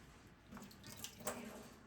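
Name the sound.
pouring water out of a tofu press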